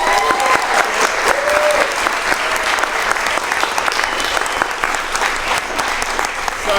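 A theatre audience at a live script reading in Los Angeles claps loudly and continuously to welcome a guest onto the stage, with a few whoops and cheers rising through the dense applause.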